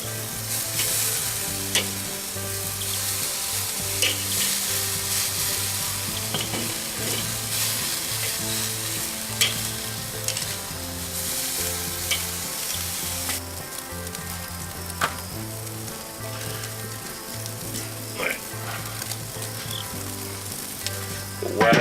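Country style ribs searing on a kettle grill, a loud continuous sizzle and crackle of fat with occasional pops, close up and steady throughout with no talk.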